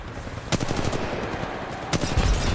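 Gunfire in the mobile battle royale game Apex Legends Mobile: two sharp bursts of rapid shots about 1.5 seconds apart, punchy and fairly close, over a steady game ambience with no talking.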